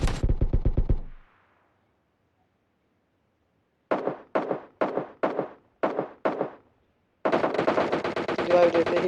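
Automatic gunfire in the battle royale game PUBG cracks out in a rapid burst, then after a pause comes as a string of short separate bursts and a final sustained stream of shots, loud and close.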